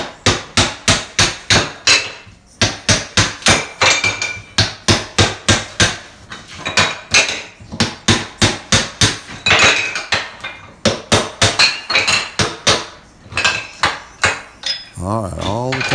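Shower wall tiles are hammered off during removal of a cast iron bathtub: loud, close, rapid metallic strikes in fast rhythmic bursts with brief pauses, tile and debris clattering down between blows.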